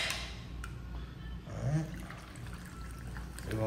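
Olipop soda poured into a glass, a soft fizzing trickle with a brief gurgle midway, fairly close and moderately quiet against room noise.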